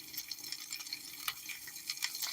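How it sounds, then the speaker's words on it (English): Meat frying in hot golden-brown butter in a pan, a steady crackling sizzle with small pops, close and fairly quiet, with no talking. "I wanted you to hear the sizzle"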